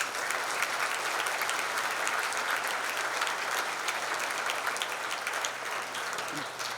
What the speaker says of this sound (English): Let's give our Kahok students a round of applause.